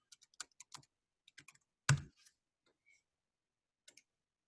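Sparse keystrokes on a computer keyboard, a few quick clicks in small clusters with one heavier key press midway, close and quiet with long gaps between.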